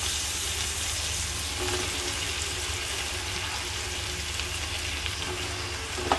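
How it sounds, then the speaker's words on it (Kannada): Idli pieces sautéing in fried masala with coriander in a pan, a steady continuous sizzle with faint stirring scrapes, close and even throughout with no talk. "ಇಡ್ಲಿ ಎಲ್ಲ ಹಾಕಿದ್ಮೇಲೆ ಒಂದು 2 ಸೆಕೆಂಡು ಹುರ್ಕೊಂಡಿದ್ದೀವಿ"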